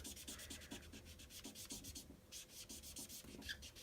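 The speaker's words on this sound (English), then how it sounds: "we're just going to rub it across" An inked sponge dauber rubbed back and forth across paper, making a steady, close scratchy swishing in regular strokes, continuous and fairly quiet with no talking.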